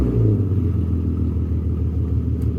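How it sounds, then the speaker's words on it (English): Car engine with a Tomei exhaust, revving as a steady deep rumble that runs close and loud throughout, with no talking. "Now I'm gonna crank it up and show you how it's supposed to sound."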